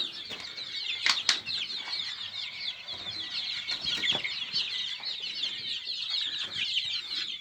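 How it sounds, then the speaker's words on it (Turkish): A dense chorus of high, shrill peeping from many one-month-old chicks close by, steady throughout, with a few brief flutters and thumps mixed in. "bir aylık civcivlerimiz var"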